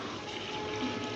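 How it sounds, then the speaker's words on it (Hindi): Prepared mutton stock pours into a pulao pot of rice, a brief close rush of liquid filling the pot with no talk. "तैयार किया हुआ स्टॉक इसके अंदर अब मैं शामिल कर रही हूँ।"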